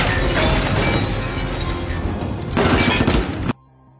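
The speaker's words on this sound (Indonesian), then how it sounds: "Brian dan timnya terlibat baku tembak untuk membebaskan George" Gunfire crackles through a film shootout, dense overlapping shots and impacts with what sounds like breaking glass, loud and busy before cutting off abruptly into near silence.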